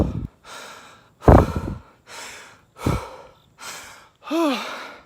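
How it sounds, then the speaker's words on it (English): Heavy, ragged breathing from someone catching their breath after running, about six loud gasping inhales and exhales close to the listener with short pauses between, no talk. "Let me catch my breath for a"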